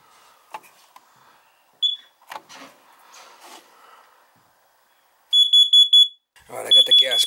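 A gas leak detector beside a furnace's gas pipe sounds bursts of sharp, high electronic beeps, two quick groups near the end, after quieter handling noises.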